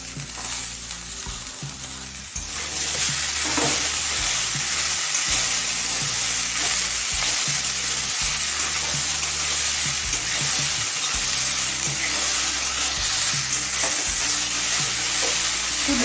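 Onion and chopped kudri (ivy gourd) fry together in a pan, a loud continuous sizzle with stirring scrapes, steady and close for the whole stretch.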